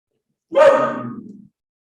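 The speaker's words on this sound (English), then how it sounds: "Sorry, my dog is here." A single short dog bark, loud and close, heard alone against silence.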